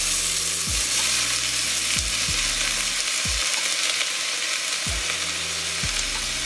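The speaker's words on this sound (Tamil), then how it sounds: "கொஞ்சம் ஜீரகம், கொஞ்சம் சோம்பு போட்டு அதுல நம்ம கட் பண்ணி வச்சிருக்கிற ஆனியனை போடணும்." Cut onion with cumin and fennel seeds frying in hot oil, a steady loud sizzle throughout, broken by several soft scraping stirs of the pan.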